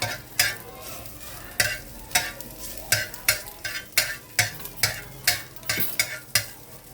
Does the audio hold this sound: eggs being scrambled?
yes